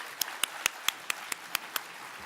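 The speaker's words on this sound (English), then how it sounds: "let's just give one last round of applause for all the award winners" Audience applause at an EPA WaterSense awards luncheon, made up of a steady wash of clapping with about eight sharper individual claps standing out at a regular pace, moderately distant and fairly quiet.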